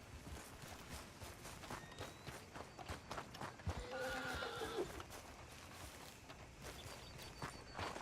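A horse in the video game Red Dead Redemption 2, with hoof clip-clop and a brief whinny around the middle, set against a busy, dense background of game ambience.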